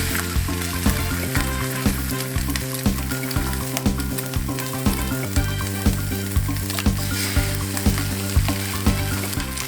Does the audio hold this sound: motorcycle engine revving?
no